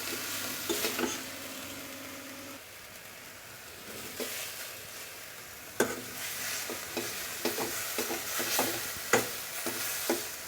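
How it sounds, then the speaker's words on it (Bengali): Spice paste with Kashmiri red chilli powder frying in a pan for a Bengali chicken curry, a steady low sizzle broken by repeated close scrapes and taps of a spatula being stirred through it. "কালারটা ভালোভাবে আমি এটা কষিয়ে নিচ্ছি ভালোভাবে।"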